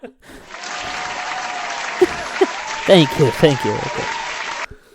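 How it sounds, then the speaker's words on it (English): An audience applauds steadily for several seconds, a broad wash of clapping, while someone speaks briefly over it before the clapping stops abruptly. "That wasn't a laugh track. That was applause."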